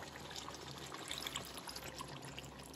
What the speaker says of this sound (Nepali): म यसमा थोरै अझै पानी एड गर्दैछु।